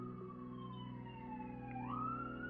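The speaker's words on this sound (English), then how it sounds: "There goes the police." A police siren passes outside, a faint sustained wail that slowly rises and falls in pitch, heard alone over a steady background hum.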